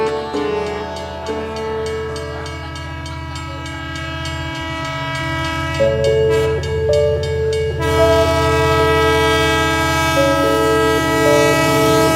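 A departing train sounds a long, loud, steady horn over a continuous rumbling of rail cars, with the blast swelling and shifting pitch partway through and no talking.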